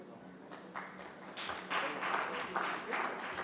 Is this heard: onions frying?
no